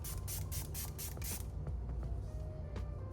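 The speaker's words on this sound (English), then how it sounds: "I'm gonna go ahead and do with my Milani Make It Last Original Spray to just refresh my makeup." Milani Make It Last Original setting spray hisses out in about six quick, close pumps, each a short bright burst of mist in rapid succession, followed by quiet room tone.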